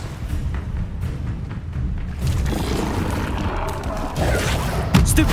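Fire spell cast in Hogwarts Legacy during combat, a dense roaring burst of booms and crackling blasts that stays loud throughout and swells toward the end.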